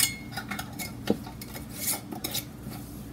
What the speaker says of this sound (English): So let's wipe the rim. And place a lid on.